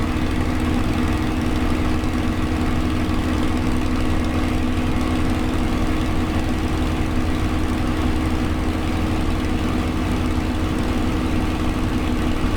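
Steady, droning piston engine hum of a Spitfire Mk IX at reduced power in Microsoft Flight Simulator, a constant loud cockpit drone with no speech over it.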